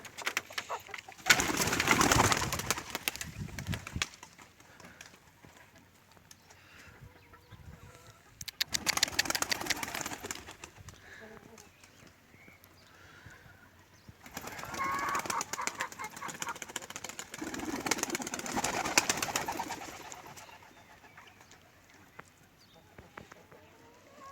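Pigeons cooing and fluttering as they are let out of their loft, in several bursts of bird sound with quieter gaps between them.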